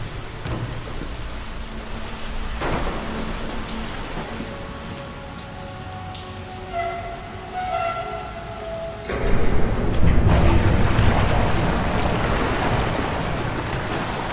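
Rain pours steadily in the storm scene of the video game Deadlight, a dense hiss with rumbling thunder swelling and growing louder toward the end.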